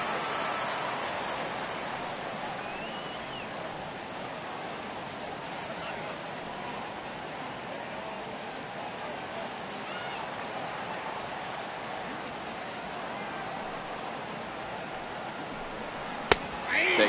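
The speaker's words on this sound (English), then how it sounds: "the rain starting to intensify here. It's coming down a little heavier now." Rain falls steadily over a minor league baseball stadium during a Texas League game, a continuous soft hiss throughout, with a brief sharp click near the end.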